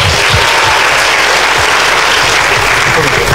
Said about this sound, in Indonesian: beri tepuk tangan untuk Pak Ardian